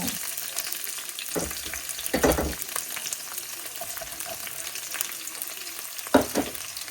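Onions frying in ghee with whole ginger and garlic cloves, a steady crackling sizzle with a few louder bursts of stirring against the pan, close and alone with no talk.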